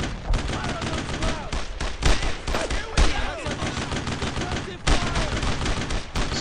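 Squad gunfire in the Brothers in Arms game on the road to Hill 30: dense, loud rifle and machine-gun bursts overlap continuously, with sharper cracks standing out every second or so throughout.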